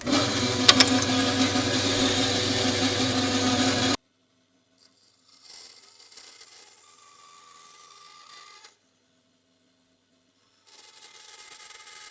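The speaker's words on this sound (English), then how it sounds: "So I'll very quickly saw that out with the bandsaw." A bandsaw cuts out a knife blank, a loud steady mechanical whine for a few seconds that stops abruptly, followed by faint, intermittent workshop noises.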